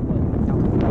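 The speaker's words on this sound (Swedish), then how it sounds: "nu blåser det skitmycket" Strong wind blows by the sea, buffeting the microphone with a loud, low, rumbling roar that is continuous for under a second.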